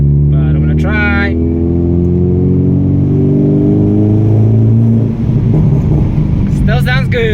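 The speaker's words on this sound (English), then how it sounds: "I have a bit of a tunnel coming up, so it's first check to see what the car sounds like underneath the tunnel." A modified Ford Figo with an upgraded exhaust and back box accelerates through a tunnel, its low engine drone rising steadily in pitch and echoing loudly, with a brief voice at the start and another near the end.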